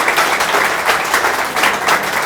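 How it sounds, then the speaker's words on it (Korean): An indoor audience at a political party's local office visit gives a dense, continuous round of applause, many hands clapping steadily and fairly loudly throughout with no break. "큰 박수로 모시겠습니다."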